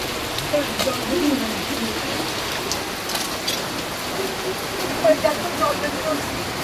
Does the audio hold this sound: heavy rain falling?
yes